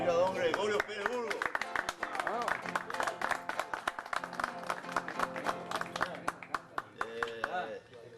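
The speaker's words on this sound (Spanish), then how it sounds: "El aplauso de ustedes para recibir a don Gregorio Pérez Burgos." Audience applause in a hall welcoming Gregorio Pérez Burgos, a dense patter of clapping that starts under a sung or spoken voice, carries on steadily, then tapers off.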